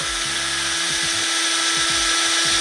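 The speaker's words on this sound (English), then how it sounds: "We're definitely getting into this diamond with this drill." A power drill grinding and boring steadily through a diamond, a loud continuous whine with a fixed tone and a few low rumbling surges as the bit bites, running without pause.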